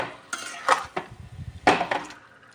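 Spices stirred into coriander chicken in a pan for a Bengali dish, with a few scattered clinks and scrapes of a utensil against the pan, close and fairly soft, and quiet gaps between strokes.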